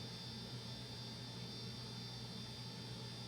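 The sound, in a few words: Betafpv Aquila16 FPV drone taking off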